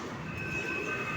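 A steady rumbling roar of a metro train arriving at a station, with a faint high-pitched squeal, heard from close by at a constant level.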